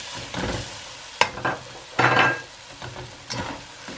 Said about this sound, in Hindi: इसको हम डाल के अच्छी तरीके से भूनेंगे।